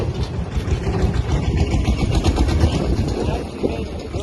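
A tractor engine idles nearby with a loud, steady low rumble and a rough, throbbing texture that runs without a break.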